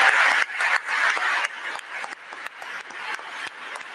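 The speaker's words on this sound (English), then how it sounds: "look at the standing ovation he's getting." Applause from an audience during a standing ovation, a dense broadband clapping wash that swells and dips in waves, moderately loud with no voices on top.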